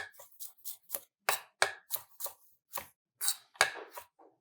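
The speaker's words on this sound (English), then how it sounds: "Same thing with the garlic, I'm just gonna coarsely chop." Knife coarsely chopping garlic on a cutting board: a dozen or so crisp, separate thunks in an uneven rhythm, close and fairly loud, with no talking.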